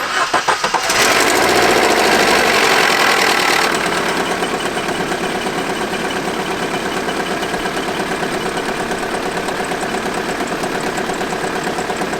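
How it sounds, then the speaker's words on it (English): A Vauxhall Astra engine cranks and catches loudly, then settles into a steady, even idle with a faint high squeal from the timing belt, no talking. "apart from a little bit of timing belt squeal, the engine actually sounds all right"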